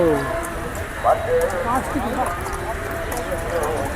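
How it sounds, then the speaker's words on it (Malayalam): Police horses' hooves clip-clop on the road during the Esala Perahera festival procession in Sri Lanka, with steady irregular steps under a busy crowd murmur and nearby voices. "പോലീസുകാർ കുതിരയിൽ വരുന്ന സീനാണ് കേട്ടോ"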